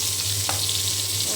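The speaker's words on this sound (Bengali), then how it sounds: "আমার মাছ ভেজে নেওয়া হয়ে গিয়েছে" Rohu fish fries in oil, a steady close hiss of sizzling with a low hum beneath and one brief clink, no voices.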